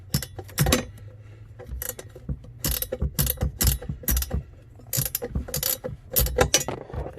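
Nut being tightened by hand while a Hooke Road dead pedal is installed in a Jeep Gladiator or Wrangler JL, producing repeated close ratcheting clicks in short bursts with brief pauses between.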